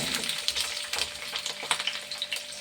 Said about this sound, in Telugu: దొండకాయలు అయితే వేసేస్తున్నానండి